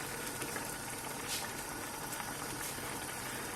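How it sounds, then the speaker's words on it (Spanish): Paella rice and broth boil hard on high heat in a pan, a continuous close bubbling and popping with faint sizzling and no voices. "lo voy a dejar cociendo a fuego fuerte 10 minutos"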